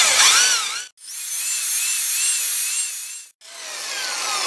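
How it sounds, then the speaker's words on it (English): A Husqvarna 262 XP chainsaw cylinder is buffed with a steady, whirring rasp in three close passes, each broken by a brief pause. "We're going to buff up a 262 XP cylinder here"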